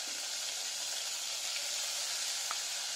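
Tomatoes frying in coconut oil with turmeric, a steady close sizzle and hiss from the pan with a few small pops, no voices.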